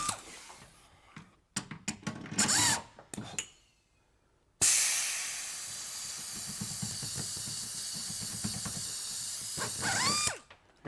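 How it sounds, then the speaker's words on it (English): A plus nut gun sets rivet nuts into a van wall, giving short ratcheting clicks and mechanical squeezes, then a long hissing stretch before a final burst of clicks. "And then go ahead and suck it in with the plus nut gun."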